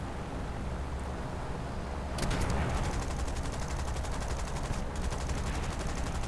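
Turret machine guns of a Lancaster bomber firing at anti-aircraft positions in War Thunder, a steady rapid rattle of automatic fire starting about two seconds in and continuing over a constant engine drone.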